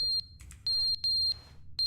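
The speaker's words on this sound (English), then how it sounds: "you can just hear the fire alarm beep go off every 5 minutes" A smoke alarm gives short electronic beeps, sounding four times in less than two seconds at irregular gaps, fairly faint over a low background rumble.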